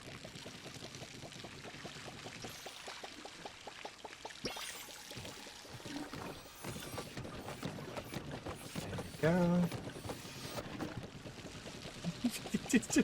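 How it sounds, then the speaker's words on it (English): Watering plants in the Palia video game gives a soft pouring, splashing stream set among clicking game sounds and music, with a short spoken remark over it. "We can water it together, don't worry."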